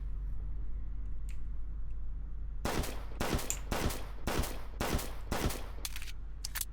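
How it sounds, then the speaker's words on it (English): Burst-by-burst gunfire in the police game Flashing Lights, about eight to ten sharp, loud shots in an irregular rapid volley after a quiet stretch, with no talk over them. "I can't tell where the shots are coming from"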